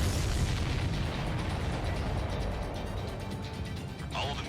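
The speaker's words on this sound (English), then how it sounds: "All of the missiles have been destroyed." Missiles exploding in the Ace Combat 7 video game, a dense, continuous roar of blasts and rumble with steady loudness throughout.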